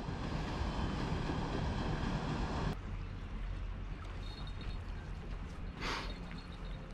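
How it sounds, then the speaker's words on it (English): The Pevensey paddle steamer passing on the Murray River at Echuca Moama: a broad, continuous low rumble and wash heard from the riverbank, mixed with wind buffeting the microphone, steady throughout without speech. "just as the Pevensey paddle steamer goes past"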